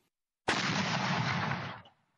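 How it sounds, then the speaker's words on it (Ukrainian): A Soviet-era Nona self-propelled mortar system fires a single loud, close blast with a sharp onset and a dense roar that holds for over a second before fading out. No voices. "Ось так стріляє «Нона» – самохідний комплекс ще радянського зразка, розрахований на мінометні боєприпаси."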